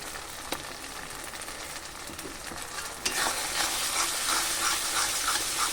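Masala and turmeric sautéing in oil over a low gas flame, a steady close sizzle and hiss with stirring scrapes, growing louder and brighter partway through.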